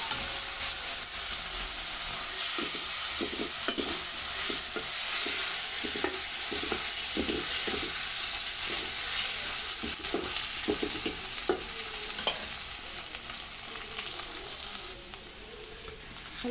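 Cashews and raisins sizzle in hot oil in a pan for biryani, with a spoon repeatedly scraping and stirring in an irregular rhythm over a steady close frying hiss.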